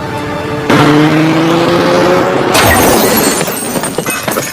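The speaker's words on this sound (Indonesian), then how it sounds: "sang supir menancap gas sehingga menubruk ke pohon" A car in a film speeds up with a rising engine whine, then slams into a tree with a sudden loud crash, followed by lingering rattling debris and clatter.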